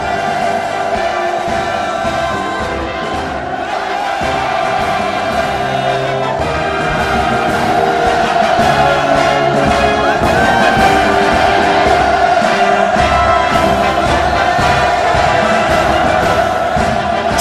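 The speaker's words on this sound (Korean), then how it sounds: "우렁찬 만세 환호성 수도의 상공에 끝없이 메아리쳐 갑니다" A huge crowd at a civilian parade in Pyongyang roars loud hurrahs in a sustained, reverberant wall of cheering that swells slightly partway through and carries on unbroken.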